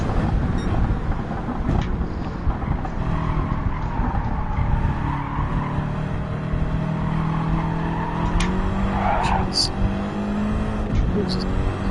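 A race car in a racing game braking hard on a tight track, tires skidding and squealing under a steady engine drone, while a person talks over it.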